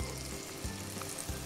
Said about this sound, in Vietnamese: Mọi người chiên cho đến khi nào mà hai mặt gà nó vàng đều á thì mọi người sẽ bắt ra.